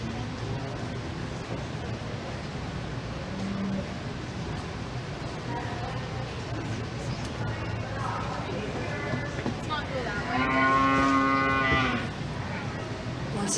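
Dairy and beef calves moo at a county fair cattle show, several calls rising above a steady arena din of crowd noise and an announcer's voice.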